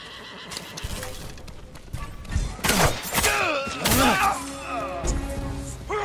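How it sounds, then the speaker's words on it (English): Samurai horses at the stables in Ghost of Tsushima whinny loudly and snort, with hoof clip-clops and thuds around them, close and prominent over a faint background. "Let's get to the horses."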